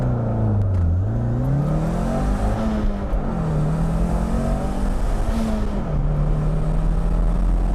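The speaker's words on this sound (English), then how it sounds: "Just barely touched the pedal and that thing is at like almost full throttle." A car with a sprint booster fitted accelerating at near full throttle, its engine note rising and dropping through gear changes with steady loud drone and road rumble, close-up and with no talking.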